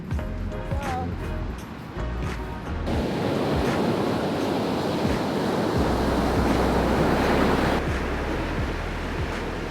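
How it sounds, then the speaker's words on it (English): Waves from the Baltic Sea roll onto a beach on Lithuania's Curonian Spit, a loud continuous surf roar that swells midway, with gusting wind buffeting the microphone. "It's like proper waves."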